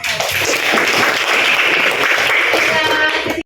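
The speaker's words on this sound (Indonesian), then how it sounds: "berikan tepuk tangan untuk" Classroom applause: a burst of many hands clapping fills a few seconds, loud and sustained, with some voices mixed in.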